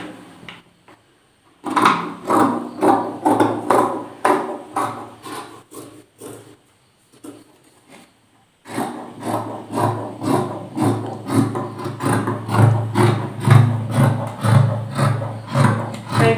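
Scissors cutting velvet fabric along a drawn line, heard close up as a steady run of rhythmic snips and rasping slides, pausing briefly before continuing with a second long sequence.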